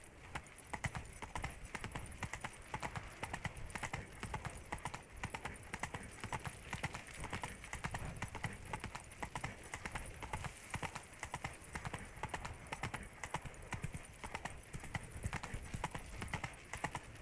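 Horse hooves galloping on a road in The Witcher 3 game set in Beauclair, a fast, steady clip-clop rhythm that runs continuously and loud with occasional faint whinnies.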